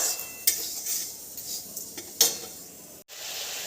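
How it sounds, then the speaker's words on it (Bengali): Mung and masoor lentils dry-frying in a pan, with a faint steady hiss and a few sharp metal clinks of a spoon stirring against the pan. "তো চলো ডালটাকে ভালো করে ভেজে নিই।"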